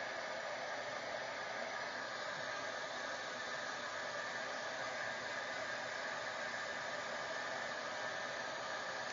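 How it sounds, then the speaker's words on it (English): An electric heat tool blows hot air in a steady, even rushing hiss that holds constant from start to end, fairly quiet and with no voices. "Get my heat tool. make the magic happen."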